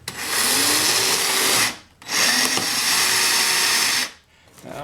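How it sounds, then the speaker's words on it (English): Power drill bores a hole through thick plaster in two sustained, loud whirring bursts of about two seconds each, separated by a brief pause, close up. "And I'll just drill a hole in the top here."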